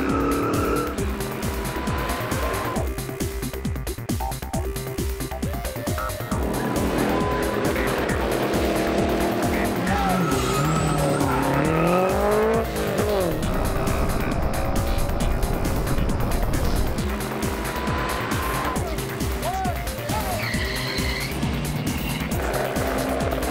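Cars drag racing on an airstrip during the Targa NZ tour, loud engines revving and roaring through gear changes with rising and falling pitch, tire squeal and passing whooshes, no talk.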